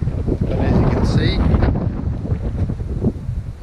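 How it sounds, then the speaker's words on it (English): Wind buffets the microphone in a steady low roar, with rumbling gusts throughout and faint background sounds, on Mount Taranaki, New Zealand. "It's windy,"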